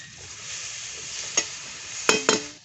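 Prawns frying in a small amount of oil while being stirred, a soft steady sizzle broken by a few sharp spatula scrapes and clinks near the end.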